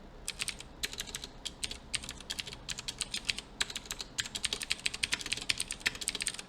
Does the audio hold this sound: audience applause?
no